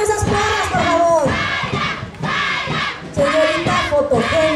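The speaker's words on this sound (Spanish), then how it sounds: "¡Que se escuchen esas palmas, por favor!" A crowd at a beauty pageant queen election and coronation cheers and shouts loudly, with strong sustained vocal noise and clapping throughout.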